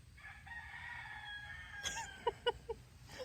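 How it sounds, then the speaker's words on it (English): A rooster crows from a distance outside a hostel on the Appalachian Trail, a long faint call followed by a few short clucks, over quiet background hiss. "a rooster outside crowing."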